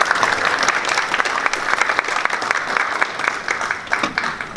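Warm applause from the audience at a Korean National Assembly textile industry innovation forum welcomes the chairman of the Korea Federation of Textile Industries, a dense, continuous clapping that stays loud and even throughout.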